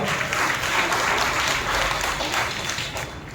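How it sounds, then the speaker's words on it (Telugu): Steady, dense applause from a large church congregation, continuous and fairly loud throughout. "చప్పట్లు కొట్టి ప్రభువును మహిమపరుచాం."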